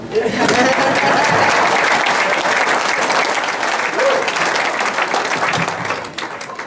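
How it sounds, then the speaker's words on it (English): Banquet audience applauding at a Hall of Fame event, a dense, loud and sustained wash of clapping that fades near the end, with faint voices mixed in. "you guys can clap in closing"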